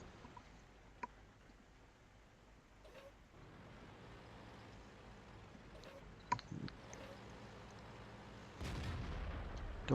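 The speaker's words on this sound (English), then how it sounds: "See the artillery shooting at the Churchill 7 because he's out in the middle of nowhere" Faint artillery fire in the tank game World of Tanks: several distant booming shots and sharp impacts scattered over a low rumbling battlefield background, ending in a louder burst.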